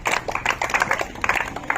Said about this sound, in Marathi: वाजवा टाळ्या, वाजवा टाळ्या.